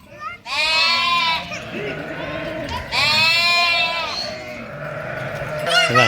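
Sheep in a village setting bleat loudly and close by, several long wavering cries with short pauses between them, and a voice can be heard among them.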